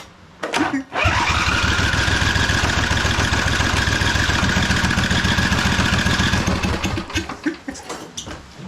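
A 2005 Husqvarna YTH2448 ride-on lawn mower, its carburetor in need of cleaning, cranks loudly for about six seconds with a steady rapid starter chug that stutters and dies away without catching; the sound is close and alone.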